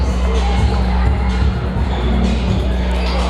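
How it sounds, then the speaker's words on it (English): Volleyball players on the Saints bench cheer and clap at a men's college volleyball match, a loud, dense crowd roar with shouts filling the gym throughout. "Bardwaj checks out of the game to a huge round of applause by the Saints players on the bench."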